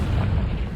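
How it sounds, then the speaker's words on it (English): A Confringo explosive spell goes off in a Hogwarts video game, a loud, close, booming blast with a dense low rumble sustained through the whole short moment. "Confringo"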